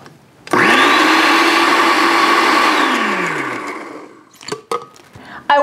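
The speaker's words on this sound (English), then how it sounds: "And keep on blending." A kitchen blender whirs loudly, mixing eggnog with added sugar. The motor runs steadily for about three seconds, winds down, then gives way to brief clatter and handling sounds.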